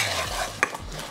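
A pot of moqueca with shrimp stirred with a utensil, scraping and clinking against the pan over a faint low background hum, with one sharper knock near the middle.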